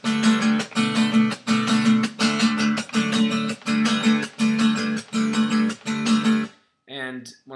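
A guitar plays the rhythm for the second two measures of the first verse of a song, steady chopped strums in a repeating pulse, close and bright, ending with a brief plucked note.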